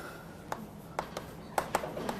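Chalk or marker writing on a board during a real estate law lecture, a handful of faint, scattered taps and strokes over a quiet room tone.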